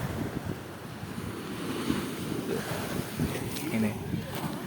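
Surf washing onto a beach in West Lombok, a steady broadband wash with gusting wind buffeting the microphone throughout, no distinct breaking rhythm standing out.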